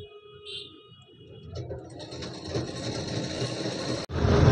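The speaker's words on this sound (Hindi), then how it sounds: "हाथ से आप अगर इस तरीके से मशीन चलाते रहेंगे तो आप सीधी सिलाई लगा पाएंगे।" Sewing machine running in a home tailoring lesson, stitching a straight seam by hand-turned operation; a soft start builds into steady, continuous close whirring and rattling with a brief stop near the end before resuming.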